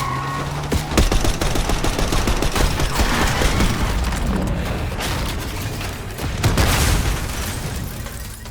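Dense automatic gunfire rattles through a Black Ops 6 campaign street battle, with rapid bursts and heavy booming impacts stacking into a loud, continuous barrage.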